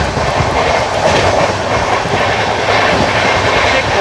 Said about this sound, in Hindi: कोई तो ट्रेन गई है